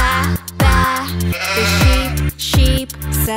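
Sheep bleat in a quick series of loud, close, wavering calls with brief pauses between them, heard alone without any voices.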